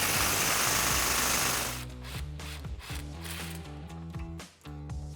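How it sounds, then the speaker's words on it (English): A loud ratcheting and rattling tool works a track bar bolt loose on a Jeep Gladiator JT, first a dense steady whir, then choppy repeated bursts with brief pauses, close up and with no speech. "So we can take a 21mm swivel socket and a 13/16 or a 21mm wrench"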